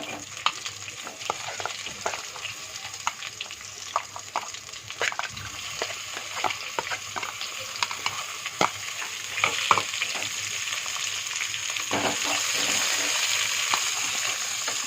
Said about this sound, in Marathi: थोडंसं तेल टाकून घेऊया कांदा टाकते